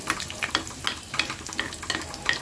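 Red chilli stir-frying with browned garlic in ghee for a tempering, a crackling sizzle broken by quick repeated spatula scrapes in a brisk rhythm, close and fairly quiet.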